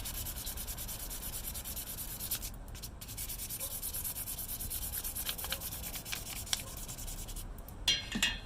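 Hand sanding of wood outdoors on a porch, a steady close scratchy rub running without pause for several seconds, with no talking over it.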